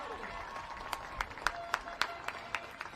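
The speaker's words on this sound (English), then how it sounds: "one more round of applause, please, for tonight's runners-up" Scattered, sparse claps from a distant football crowd at a cup final presentation for the runners-up, a handful of sharp separate hand claps over a faint background murmur.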